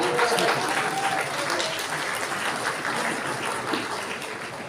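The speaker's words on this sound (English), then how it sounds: "Clap, if you're gonna clap, clap." Full, sustained applause from a seminar audience at a business network presentation, loud and continuous throughout, with a faint murmur of voices mixed into the clapping.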